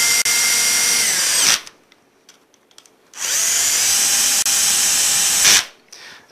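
A cordless power drill drives two screws to install a PDQ XGT 116 hub on a door, two loud sustained whirring bursts separated by a short pause with faint clicks between them.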